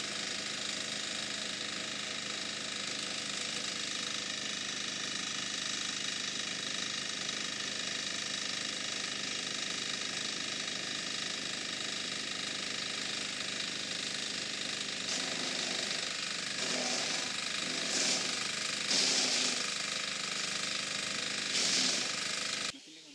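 Kelani Compost compost-making machine running with a loud, steady mechanical drone and rattle, joined near the end by rhythmic clanking and knocking.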